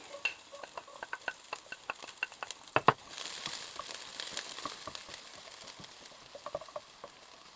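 Garlic fried in a pan as the start of Pad Thai: soft stirring scrapes and taps over a light sizzle that grows into a steady frying hiss after a few seconds, close and fairly quiet.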